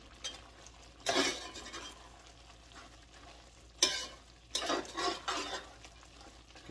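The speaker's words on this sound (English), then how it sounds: "As soon as it gets to this stage right here, you gotta start stirring" A spoon stirs shredded coconut and sugar cooking down in a pot for homemade coconut drops, giving scraping, sizzling strokes in uneven bursts against a quiet, faintly hissing background.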